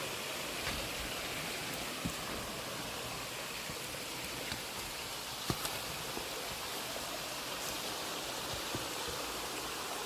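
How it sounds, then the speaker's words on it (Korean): Steady rushing of a mountain valley stream swollen after rain, flowing over rocks, a dense continuous wash of water with no voices, close and constant throughout. "물소리가 너무 이쁘게 나고 어제 비가 왔었거든요."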